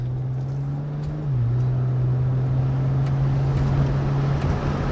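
Alpina B3 driving in sport mode with a flashed transmission tune, its engine a steady low drone heard from inside the cabin, with a slight pitch drop as it shifts near the start and a constant loud hum with no talking.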